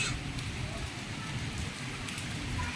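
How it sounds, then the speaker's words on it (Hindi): Steady rain falling in sunshine in Islamabad, pattering on surfaces, a continuous hiss of drops with faint background noise and no voices. "धूप में बारिश हो रही है।"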